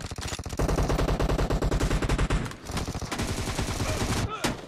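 Rapid automatic gunfire from PUBG played on an emulator, dense bursts of shots rattling almost continuously for several seconds, with game music and sound effects mixed in.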